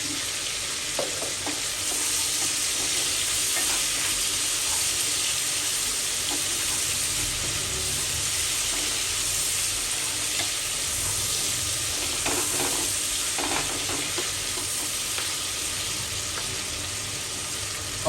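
Tomatoes fry in oil with salt. A steady, loud sizzle hisses throughout, with occasional light stirring knocks, and no one speaks.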